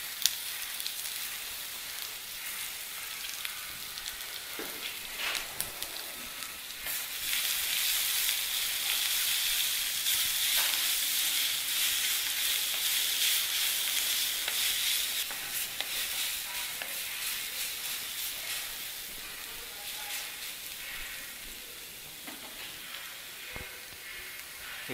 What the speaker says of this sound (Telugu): ఇప్పుడు క్యారెట్ వేసుకుందాం, తురిమిన క్యారెట్.